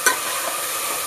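Tomatoes frying in a pan for tomato bath, giving a steady soft sizzle with a brief stirring clatter near the start, close and moderately loud, no talk.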